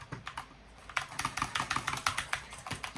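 Fast, even typing on a Corsair computer keyboard, crisp close key clacks that start sparse and quickly become a dense, rapid patter with no voices.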